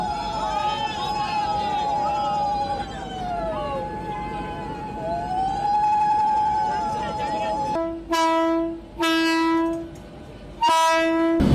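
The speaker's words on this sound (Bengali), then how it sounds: "নতুন ট্রেন এই বালুরঘাট স্টেশন থেকে ছেড়ে এখন ভাতিন্ডা অর্থাৎ দিল্লি হয়ে ভাতিন্ডার দিকে রওনা হচ্ছে" A new train's horn sounds in long, steady blasts over rumbling rail noise as it departs Balurghat station for Bathinda, then several shorter, sharper blasts close by near the end.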